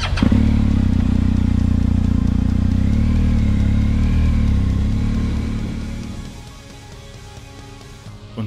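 A touring motorcycle on a Swedish wilderness road pulls away, its engine loud and close at first with a steady droning note, then fading steadily into the distance.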